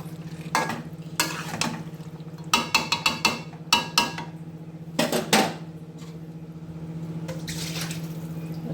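A pot of chicken curry with potatoes being stirred and covered with a metal bowl, a series of close clanks and scrapes of metal on metal over a steady hum, then a quieter stretch.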